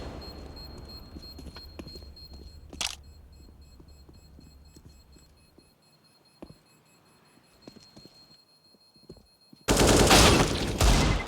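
Gunfire in a Counter-Strike match on the Nuke map: scattered sharp shots ring out over quiet game ambience, then a loud sustained volley of rapid fire closes the stretch.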